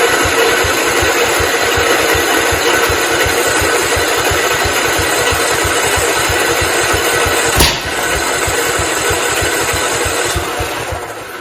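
A 1969 Patio 112 garden tractor engine runs steadily with throttle applied, a loud, even rapid chugging held throughout, with one sharp clank partway through before it carries on.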